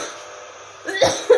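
A person coughs twice in quick succession, close and fairly loud, after a faint quiet stretch.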